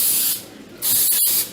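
Two close, loud hissing bursts from a spray bottle, separated by a short pause, spraying a rolling pin.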